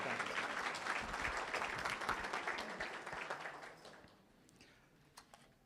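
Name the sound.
audience applause at a flood recovery meeting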